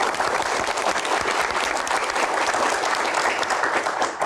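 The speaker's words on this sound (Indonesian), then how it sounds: "Boleh tepuk tangan yang paling meriah untuk Pak Bahlil" A live audience at a Q&A event applauds for Pak Bahlil, dense and sustained clapping at even volume from start to finish, with no voices over it.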